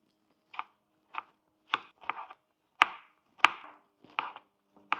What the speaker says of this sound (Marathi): आपण आता टमाटे बारीक कट करून घेऊ।